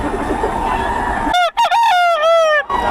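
A rooster crows loudly and close at a Bocaue rooster market, its long harmonic call ringing out after a stretch of steady crowd and bird din from the surrounding chickens.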